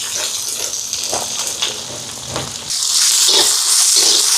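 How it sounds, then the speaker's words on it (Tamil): Onions, green chilli and garlic fry in hot sesame oil, a steady close hiss and crackle that swells into a louder, brighter sizzle partway through, with no voices. "இப்போ இந்த வெங்காயம் எல்லாம் பதம் கட்டுதும்"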